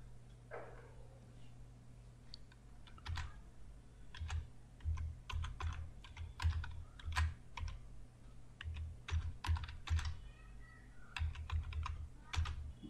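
Typing on a computer keyboard in irregular bursts of clicky keystrokes, close and clear, with short pauses between runs and a faint steady hum behind.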